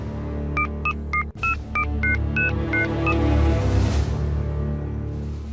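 Phone number dialed on a telephone keypad: a quick run of about nine evenly spaced touch-tone beeps over a dramatic music bed, followed by a rising swell, with no talking.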